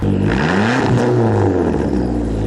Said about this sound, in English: it is straight piped. It's actually a muffler delete.